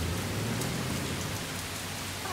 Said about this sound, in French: Il ne pourrait pas arrêter de pleuvoir maintenant.